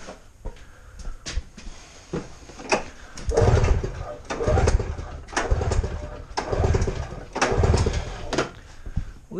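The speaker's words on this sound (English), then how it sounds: "I've got the throttle pinned open for a compression test. We're going to do the mag side first." A Yamaha Phazer 480 snowmobile engine cranks over with the throttle held open for a compression test on the mag side, making a series of rhythmic, surging bursts after some brief sounds and talk.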